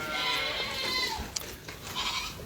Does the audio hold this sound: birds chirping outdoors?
no